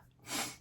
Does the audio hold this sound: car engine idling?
no